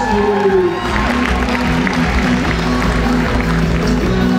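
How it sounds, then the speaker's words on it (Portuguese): Continuous crowd applause and cheering fill a children's cosplay contest stage show at an anime convention, a dense steady roar of clapping with a musical backing tone underneath, held loud for several seconds. "Uma salva de palmas para todos os nossos filhos!"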